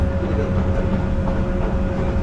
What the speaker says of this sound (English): let me call it friction between the railway line and the train itself